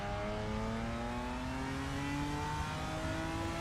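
Race car engine in the RaceRoom racing game revving steadily, a continuous loud mid-pitched drone with rising harmonics that climb gradually as the car accelerates, no voices.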